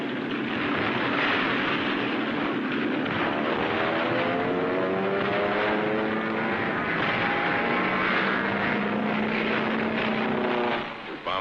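A steady, loud World War II propeller warplane engine drone over the battle at Tarawa, with a rising and falling propeller whine, holding constant throughout.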